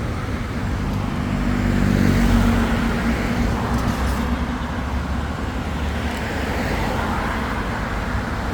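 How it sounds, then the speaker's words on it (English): A bus and other traffic pass along a road near Queen's Park Savannah in Port of Spain, Trinidad, a steady roadside rumble of engines and tyres that swells briefly as a vehicle goes by, with no talk. "There's another bus, and that road will take you up Lady Young Road."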